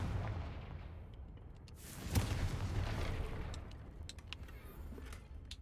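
Confringo spell explosion in Hogwarts Legacy: a single deep, booming blast that swells and rolls away, followed by faint clicks and small crackles from the game.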